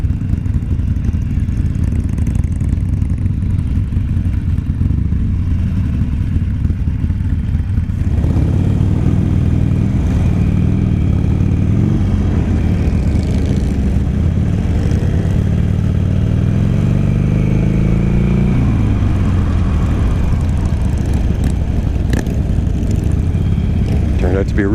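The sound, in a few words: group of motorcycles riding past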